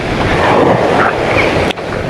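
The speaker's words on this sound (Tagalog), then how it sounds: "Dito wala kang ibang maririnig kundi hampas ng alon habang naglalakad tayo" Steady broadband roar of surf with wind buffeting the microphone, continuous and fairly loud throughout, with a brief dip near the end.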